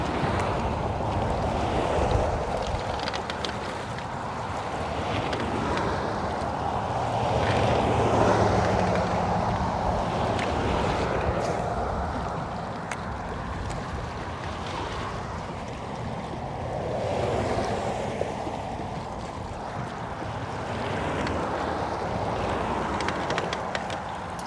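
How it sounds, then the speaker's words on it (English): Cold wind gusting across open water on a bass fishing trip, a loud continuous rushing roar buffeting the microphone, swelling and easing in slow waves with faint water wash beneath. "That wind that is at my back right now is cold."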